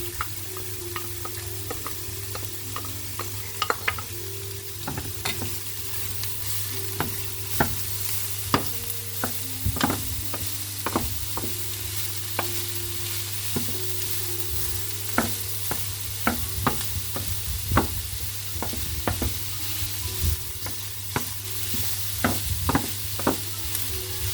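Bell peppers and translucent onions sizzle steadily in a pan, with a constant frying hiss and frequent close clicks and scrapes of a stirring utensil throughout, and no voices.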